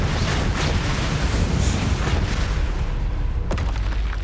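Spell explosions from the Confringo spell in Hogwarts Legacy, a video game, rumble as a continuous dense blast with a sharp crack near the end, loud and booming throughout.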